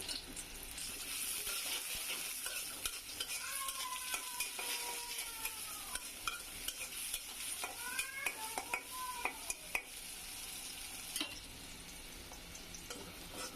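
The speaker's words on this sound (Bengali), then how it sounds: "একটু পেস্ট একটু ভাজা ভাজা করে নিলাম" Spice paste fries in a pan while being stirred, an up-close, quiet sizzle with repeated scraping strokes and light clicks of a spatula, no voices present.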